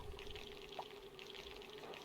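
Water flowing in the video game Oxygen Not Included, a steady soft trickling stream that holds even throughout with a faint tonal hum underneath.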